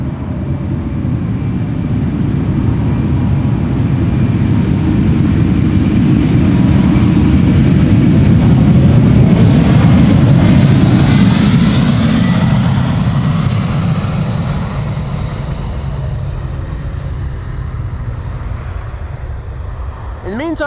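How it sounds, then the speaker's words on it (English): A 33-year-old United Airlines airliner, first flown in 1991, departs Amsterdam Schiphol Airport on flight 21 to Houston, a broad, loud roar of jet engines that swells toward the middle and then slowly fades as the aircraft pulls away. "This is United Airlines, flight 21, going to Houston, Texas."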